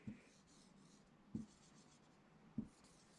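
Marker strokes squeak across a whiteboard during a phonics lesson, three short taps spread over a few seconds against a quiet room.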